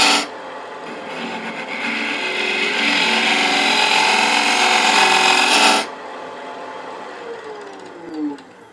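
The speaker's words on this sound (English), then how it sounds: "let me do that with a round negative rake scraper" A round negative rake scraper works the bottom of a turned wooden box for a rook chess piece on a lathe, giving a loud, continuous rasping scrape for several seconds before cutting off to the lathe's hum.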